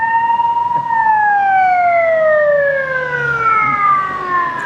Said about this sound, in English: the ambulance is going to a different person